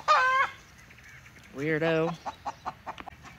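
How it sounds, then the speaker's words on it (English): A rooster gives two loud, close, drawn-out calls like a hen's egg-laying cackle, separated by a pause, followed by a brief spoken word and softer scattered sounds. "Does anybody else have a rooster that makes chicken egg laying sounds all the time?"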